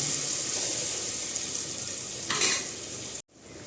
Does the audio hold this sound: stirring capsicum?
yes